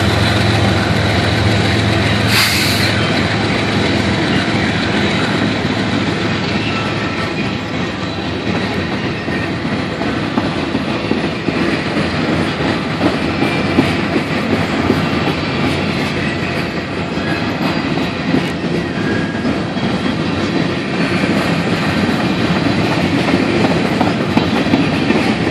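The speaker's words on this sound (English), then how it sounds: "This is a grain train heading back up." A long grain train rolls steadily past at close range, its wheels clattering and rumbling continuously with no break.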